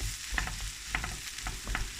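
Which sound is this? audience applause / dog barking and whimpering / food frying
food frying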